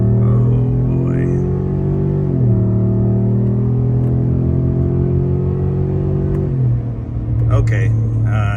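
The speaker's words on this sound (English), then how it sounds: "let's do one more wide open throttle video here. K&N Blackhawk series." A Chevrolet Silverado ZR2 with a K&N Blackhawk series intake pulls at wide open throttle, loud and close, its deep engine note rising in steps through the gears as a voice speaks over the roar.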